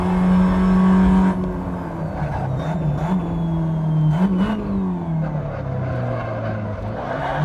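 A 2010 Tatuus FA01 race car engine howls at full throttle in Assetto Corsa on the Pikes Peak hill climb, loud and close, its pitch dipping and climbing through gear changes and corners with no talk over it.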